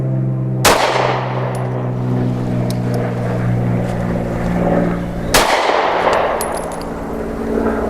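Taurus GX4 pistol fired on a range, with two loud, sharp gunshots in close succession, each leaving a long ringing tail over a steady low hum.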